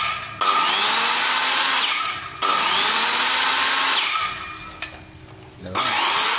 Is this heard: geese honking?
no